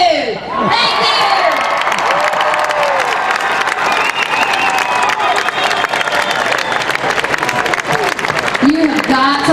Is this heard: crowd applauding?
yes